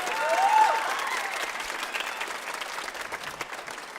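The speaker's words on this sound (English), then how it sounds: "one big round of applause for all of our soloists" Audience at the Adams County Honors Music Festival applauding its soloists, a dense burst of clapping that swells at first and then holds steady, with a brief whistle rising above it early on.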